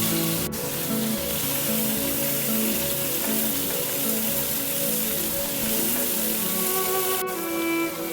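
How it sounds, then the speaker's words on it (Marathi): Onion frying in a pan until golden, a continuous close sizzle with dense crackling, and two sharp utensil taps, one near the start and one near the end. "कांद्याला छान सोनेरी रंग येईपर्यंत तो भाजून घ्यायचा"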